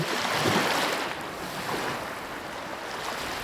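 Animated cartoon ocean scene with a broad rushing wash of waves, loud at first and then settling into a steady, softer surf roar with no talk.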